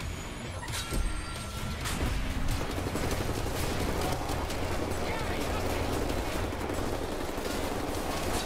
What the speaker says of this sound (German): Von wo höre ich die Schüsse?